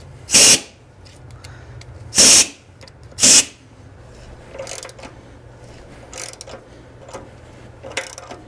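A power tool taps threads for studs on a Cole Duplex planter mount on a Farmall Super A, heard as three loud, short bursts followed by fainter intermittent mechanical clicks and whirs.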